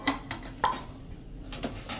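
A metal tin set down into a steaming pan, giving a few sharp metallic clinks and clatters close by, spaced out over a couple of seconds with no talking.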